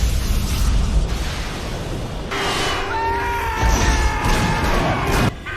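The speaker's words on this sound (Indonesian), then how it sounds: "ledakan hebat pun tiba-tiba terjadi" A deep explosive boom and crash erupts over a dense, rumbling soundtrack, with tonal music lines running through and several sharp bursts along the way.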